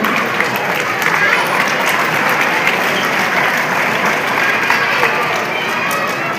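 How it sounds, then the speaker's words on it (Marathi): At an English-medium school's annual gathering, a large audience claps loudly and continuously, a thick, even wash of applause with no break. "तुमच्या डोळ्यात जोरात टाळ्या वाजवून तुम्ही वाजत नको"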